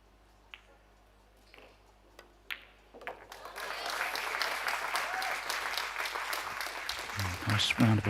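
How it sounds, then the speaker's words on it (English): A few sharp isolated clicks, then fans at a European youth pool championship break into steady applause that continues loudly to the end. "Nice round of applause from the fans behind"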